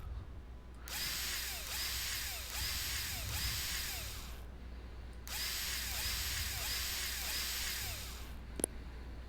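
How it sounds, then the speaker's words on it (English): Screws driven in with a power drill in the construction game Contractville: two long, steady whirring bursts separated by a short pause, loud and close, with no talk. "Screw those in nice and taut"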